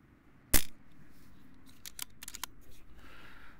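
A BRK Ghost air pistol fires one sharp, close crack, followed by quiet clicks and handling noises.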